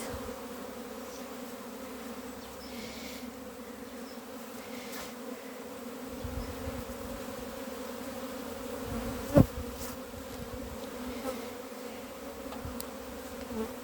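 Young honeybees swarm over an apiary on their orientation flights after a week of rain in a cold spring, a steady dense buzz that holds evenly throughout, with one brief sharp knock.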